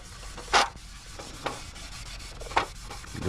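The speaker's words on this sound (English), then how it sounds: "Now we're gonna hit it with the green Scotch-Brite just to give it something to bite to." A green Scotch-Brite pad scuffs a 2002 Toyota Camry part during reconditioning, making three separate short, raspy rubbing strokes at uneven intervals over quiet background.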